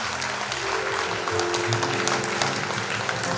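Steady applause from a crowd, even and sustained throughout, with no voices rising above the clapping.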